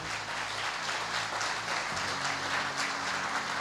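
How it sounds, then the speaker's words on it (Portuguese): Church congregation applauding the Lord: steady, dense clapping from a crowd fills the space, with a low hum running underneath and no speech. "Eu quero um grande isso, aplauso ao Senhor."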